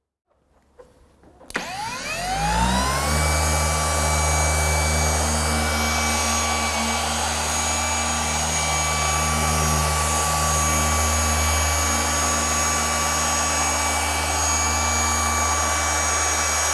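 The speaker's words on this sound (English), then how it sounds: "the polisher feels nice. I mean, the noise level is reasonable" A cordless polisher works on car paint during auto detailing. The motor spins up abruptly after a brief quiet start, then holds a steady, loud, close whirring hum for the rest of the clip, alone without speech.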